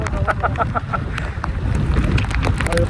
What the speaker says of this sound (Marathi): हा वारा बघा केवढा जोरात येतोय.